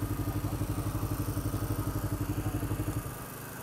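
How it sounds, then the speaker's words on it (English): A Kawasaki Ninja motorcycle rolls past on the road with a steady, pulsing engine drone that holds loud and close for about three seconds and then drops away. "Oh, look at that bike. Damn. Ninja, bro."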